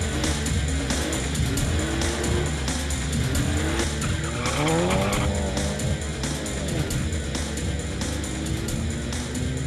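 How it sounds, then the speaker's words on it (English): VW GTI drag cars spinning their tyres at Tarlton International Raceway, a loud, steady screech of tyre squeal over engine roar, with a brief swelling squeal midway and no talk. "We've brought you all the fun, all the tyre spinning, as well as the smoke here at Tarlton International Raceway"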